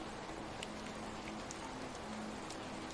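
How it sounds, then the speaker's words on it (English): Steady rainfall in a rainforest patters continuously on leaves and surfaces, a soft, even hiss with scattered nearby drops, faint and unbroken with no voices. "sheltered from the steady rainfall continuing around you"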